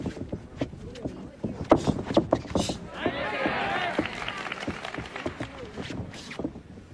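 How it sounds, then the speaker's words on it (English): A Japanese crowd at a boxing match between Naoya Inoue and Nonito Donaire swells into a broad cheering roar for a couple of seconds under steady commentary, with punches and arena noise around it. "The Japanese crowd getting into it here"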